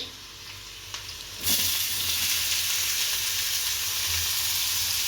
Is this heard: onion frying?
yes